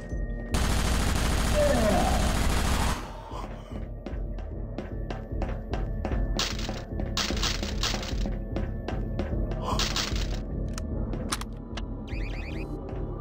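An angry turret in a Half-Life Episode 1 mod unleashes a loud, continuous burst of automatic fire for about two seconds, followed by a long string of separate sharp cracking shots in uneven rhythm.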